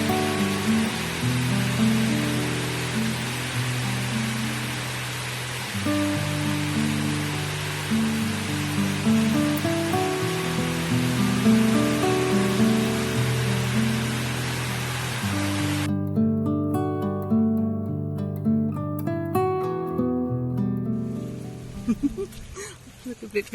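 Steady rain hisses down along a walking path near a waterfall, a broad continuous wash mixed with music that cuts out abruptly near the end, leaving quieter patter.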